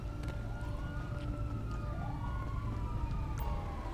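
An ambulance siren wails in the police game LSPDFR, rising and falling steadily over a low constant rumble, with no talking.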